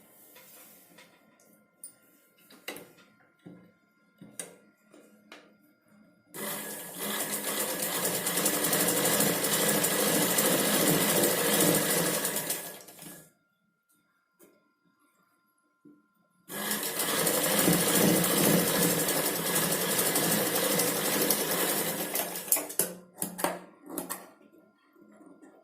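Sewing machine stitching the lining of a blouse, running in two long steady whirring bursts of several seconds each, loud and close, separated by quiet pauses with faint handling clicks, no talking.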